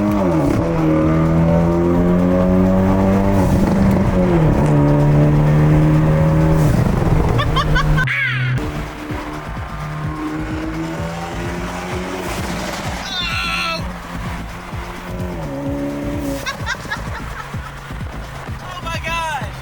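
A car accelerates hard nearby with rising engine roar through shifts and bursts of tire squeal, then settles into a rougher lower drone, with excited voices talking over it.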